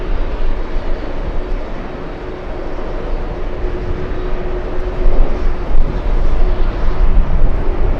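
Steady broadband roar of airliner jet engines at JFK airport on a cold, windy day, a Latam Boeing 767 lining up for departure to Lima; the rumble holds constant and swells slightly toward the end, with wind noise.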